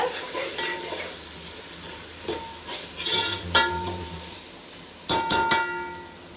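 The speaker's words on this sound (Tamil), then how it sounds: "ஸோ அதனால் இதில் ஒரு 2 ஸ்பூன் இஞ்சி பூண்டு பேஸ்ட், அவ்வளோதான். இப்போ இது நல்லா வதக்குங்க." Ginger garlic paste stir-frying with goat trotters in a pan, a steady close sizzle broken by scraping stirs and occasional louder clinks and spatters, with no voices.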